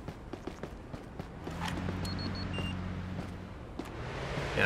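A car speeds past on a street in Police Simulator during a foot patrol, its engine hum swelling then fading over a few seconds amid faint footsteps and light street ambience.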